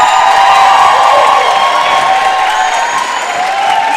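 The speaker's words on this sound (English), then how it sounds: "We've got quite a nice little crowd in here as well." A small crowd at a roller derby World Cup game in Innsbruck cheers and shouts in a steady, loud, continuous wash of voices with whoops, heard close with no single voice standing out.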